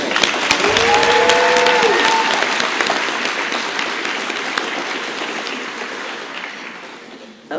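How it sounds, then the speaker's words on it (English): Audience applause for graduates at a graduation ceremony, loud sustained clapping from a large crowd with a brief whoop or cheer early on, slowly fading toward the end. "One more round of applause for our graduates"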